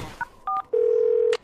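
Cartoon telephone dialing: two short dual-tone beeps, then a longer steady electronic tone ending in a brief burst, crisp and close with no talking.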